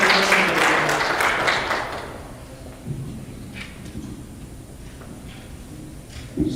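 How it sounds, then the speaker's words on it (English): Applause from a crowd at a presentation at UNC Blue Ridge, clapping loudly at first and then tapering off over a couple of seconds, leaving a quiet room with faint shuffles. "So let's give those folks a round of applause."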